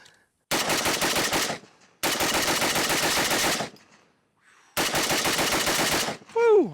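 An RPK rifle fitted with a Bulgarian magazine fires three long, loud automatic bursts close to the microphone, each separated by a short pause.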